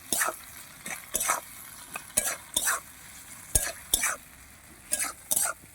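Pointed gourd seeds fry in a pan over a strongly burning stove, the close sizzle broken by repeated sharp scraping strokes of a spoon stirring in quick bursts.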